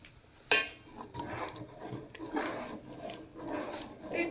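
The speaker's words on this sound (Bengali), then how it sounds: "এটা একটু নেড়ে দিই আবার।" A spoon scrapes and stirs a pitha mixture in a pot, making a sharp clink at the start and then repeated soft scraping strokes close by, with no one talking.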